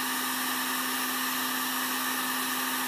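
A heat gun set on high warms an electronic scrap circuit board to loosen its IC chips, giving a steady, even blowing roar with a faint hum, with no talking.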